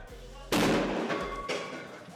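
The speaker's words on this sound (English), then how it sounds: "the fireworks inside are so unnecessarily reckless" Fireworks set off indoors in a house: one sharp, loud blast bursting out of near silence, then a second crack about a second later, each trailing off in crackling decay.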